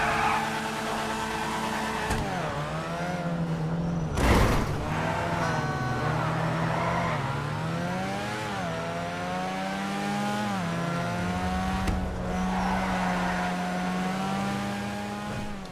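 In the GTA video game, an Annis Savestra with a rotary engine drives along, its smooth, high-revving note climbing through several gear changes. The revs rise and drop repeatedly, with a sharp thump early on and a steady, close engine tone throughout.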